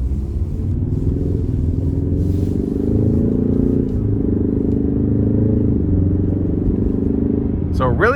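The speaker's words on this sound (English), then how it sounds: "So really great sound from the engine." A 2021 Ford Mustang EcoBoost engine drones steadily from inside the cabin, a deep low rumble with slight shifts in pitch as it accelerates, loud and continuous.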